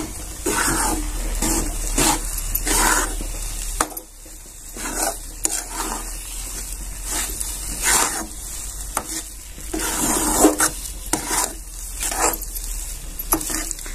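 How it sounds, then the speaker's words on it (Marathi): Papaya modak mixture stirred in a pan over a low gas flame, repeated scraping and soft sizzling strokes in an irregular rhythm, close and fairly loud, with no talking. "छान मिश्रण एकत्र करून घ्यायचंय"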